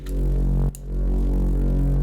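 A deep, loud bass made with the Faceplant synth drones low and steady in a music track, briefly cutting out and then returning for a second sustained note.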